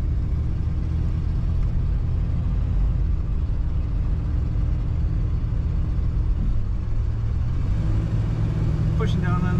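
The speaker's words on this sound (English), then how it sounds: "Pushing down on that throttle, the transmission does kick down as it should." A 1984 Oldsmobile 98 Regency Brougham accelerates as its transmission kicks down, giving a steady, close low engine rumble that builds slightly toward the end, with a voice talking over it.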